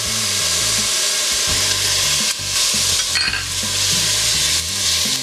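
Garlic added to a hot frying pan for pheasant wild rice soup sizzles and crackles steadily and loudly up close, with stirring scrapes running throughout and no talking.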